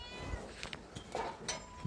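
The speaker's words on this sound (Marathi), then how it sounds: "मित्रांनो, मांजर कुठं वरडतंय बरं" A cat meows several times at a farm with cows tied nearby, with short, fairly close cries spaced out over a quiet background.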